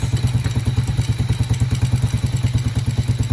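An old, stripped-down motorcycle engine runs right after starting, its loud, close, rhythmic thumping idle pulsing evenly several times per second with a clattering edge throughout.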